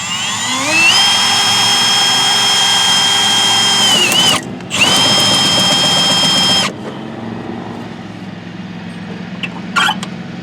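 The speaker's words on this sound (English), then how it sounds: "we're going to drill it out" A power drill drilling metal on a 1955 Ford Fairlane Victoria whines loudly at a steady high pitch, stops briefly, spins up again, then cuts off, leaving quieter background rumble.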